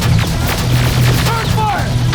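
Gunfire in the video game Terminator: Resistance during a fight in a ruined city: sharp bursts of shots early on, followed by shouting voices over the continuing battle noise.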